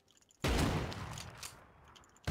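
A burst of gunfire in the video game Rust: a sudden loud volley of rapid shots that rings out, then a noisy tail fading over about two seconds, with another sharp shot at the very end.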